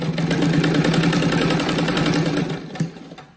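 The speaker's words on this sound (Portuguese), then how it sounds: "Eu vou abrindo e costurando." Sewing machine stitching a patchwork rug made from fabric scraps, running in a loud continuous mechanical whir with rapid rhythmic ticking, close by, slowing and stopping near the end.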